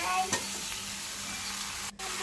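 Hilsa fish pieces are added to fried potatoes in a pan and stirred gently, giving a steady moderate sizzle with a few scraping stirs and one brief break near the end, without speech.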